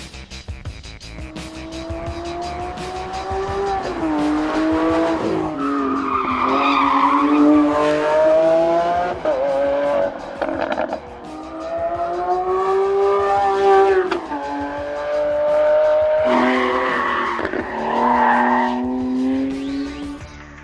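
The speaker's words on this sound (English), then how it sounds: "it is none other than the Lamborghini Aventador SVJ" A 2019 Lamborghini Aventador SVJ supercar is driven on the Estoril circuit in Portugal. Its loud engine rises and falls through repeated revving pulls, and tires squeal at times, close and continuous.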